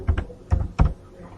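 A few quick clicks of keys being pressed on a computer keyboard while typing a file name, close and clear, in short bursts with no talking.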